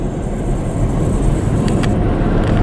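A truck rolling past on a road near the Egeln wind farm, a steady broadband rumble with a low roar, fairly loud and close, with no voices.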